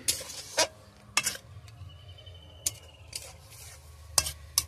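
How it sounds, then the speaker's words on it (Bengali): A spoon stirs kulekhara leaf curry with potatoes in a pan, with sharp scattered scrapes and clinks against the metal over a soft low bubbling simmer, quiet and close. "ভালো করে নাড়িয়ে নেব।"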